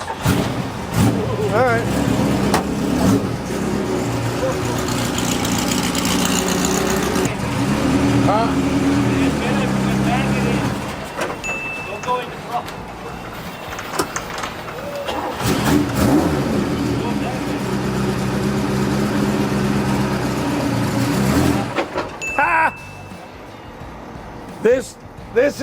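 A 1970s-era Ferrari 308 V8 once owned by Paul Newman, fitted with a racing clutch, cranks and fires after its fuel pump is heard running, then revs loudly and unevenly up close while people talk over it.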